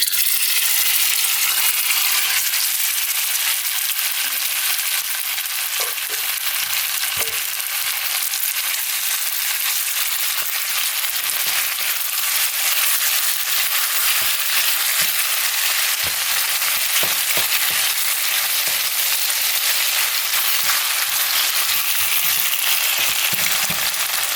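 A marinated steak searing in a hot pan, producing a loud continuous hiss and crackle that holds steady and close for the whole stretch with no voices.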